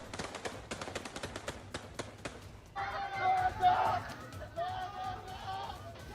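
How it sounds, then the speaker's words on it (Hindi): Rapid gunfire during riots in France crackles in a quick series of sharp bursts, followed by a crowd shouting and clamoring loudly over the remaining noise. "और शुक्रवार आते आते ताबड़तोड़ गोलियां चलने लगी।"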